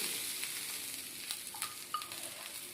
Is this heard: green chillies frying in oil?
yes